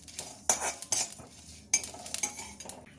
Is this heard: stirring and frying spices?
yes